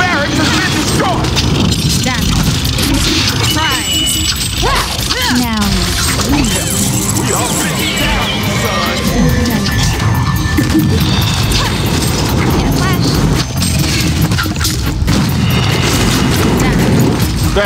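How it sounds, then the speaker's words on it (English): In the Heroes of Newerth video game, a Legion Tower is destroyed, heard as loud continuous smashing, crashing and booming amid dense battle effects, with game voices over the top. "The Hellborn have destroyed a Legion Tower."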